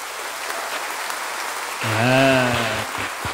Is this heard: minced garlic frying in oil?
no